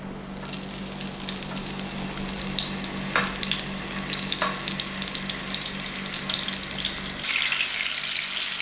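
Garlic and ginger paste fries in a pan with a steady crackling sizzle, spitting pops scattered throughout and a low hum beneath, the sizzle brightening toward the end.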